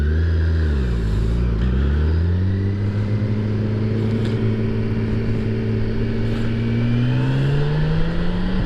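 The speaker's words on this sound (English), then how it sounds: "it feels so good to be back on a motorcycle" A motorcycle engine drones steadily while riding, with the pitch dipping and then climbing smoothly as it accelerates. Loud, close and continuous, with no speech.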